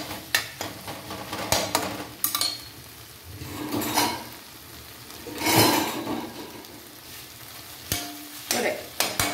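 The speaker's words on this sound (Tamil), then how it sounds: "ஒரு சின்ன தீய வச்சுட்டு ஒரு 2 மினிட்ஸ் வதங்கட்டும்" Leftover chapati egg kothu parotta sautéed in a pan over a low flame, a soft continuous sizzle broken by repeated scraping and clinking of a utensil stirring against the pan.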